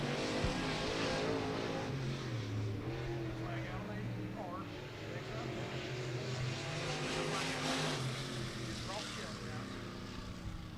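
A race car laps Beckley Motor Speedway in qualifying for the local classes, its engine a steady loud drone that rises and falls as it passes down the front straightaway, with a commentator's voice over it.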